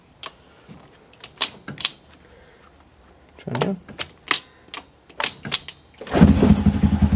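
Honda motorcycle with a 143cc big bore kit being kick-started: repeated sharp mechanical kicks and clatter, then the engine catches and runs loudly near the end, close by.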